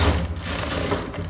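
A sewing machine runs while stitching a seam on trousers during pant making. A short, close, continuous mechanical buzz with a rapid needle chatter fills the brief moment, with no voice.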